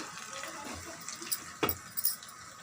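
Water is poured into a pot of mutton head curry cooking with masala, giving a soft, faint, steady splash with a few louder sloshes near the end.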